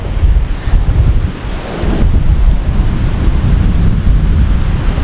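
High wind at Lac Qui Parle State Park in Minnesota blasts across the microphone in loud, rumbling gusts, dipping briefly before surging back into a steady, heavy roar.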